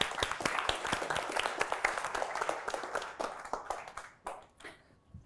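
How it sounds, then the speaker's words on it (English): Audience applauding panel speakers on a conference stage, a dense burst of clapping that holds steady for several seconds, then thins into scattered claps and fades out near the end. "Let's give them a round of applause"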